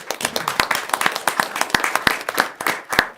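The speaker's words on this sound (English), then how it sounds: "I think that's a round of applause to communications for that" A round of applause breaks out among attendees at a city council meeting, a small group clapping in distinct, uneven claps at close range, with no other sound.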